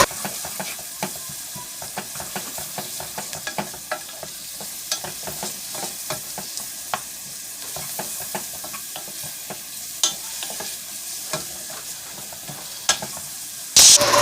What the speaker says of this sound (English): Saute until the onions are translucent.